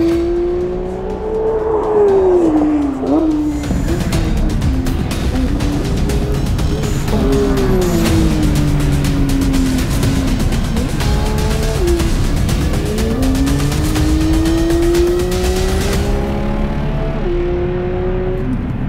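A race car engine screams through a timed lap on a circuit, heard onboard and close, its pitch rising and dropping through gear changes and corners, with brief tire squeal and a steady loud drone throughout.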